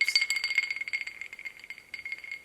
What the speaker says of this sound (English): ASMR ice cubes.